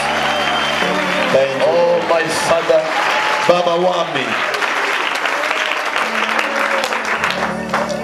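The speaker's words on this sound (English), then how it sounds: "Come on, for the last time, let us clap hands for you." A church congregation claps along loudly under a preacher's amplified voice and musical backing. Someone speaks over the clapping throughout.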